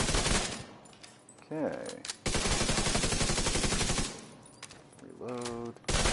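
Loud automatic weapon fire from The Division 2 comes in long sustained bursts with brief pauses between them, while a voice speaks briefly in the gaps.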